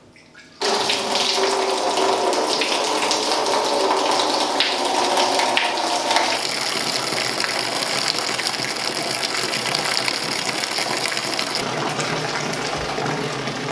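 Wort from a Speidel Braumeister 50L brewing system gushing through an opened valve into a sanitized fermenter, a loud steady rushing pour that starts abruptly and continues without talk.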